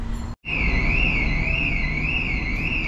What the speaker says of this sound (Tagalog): kung nag-alarm yung sasakyan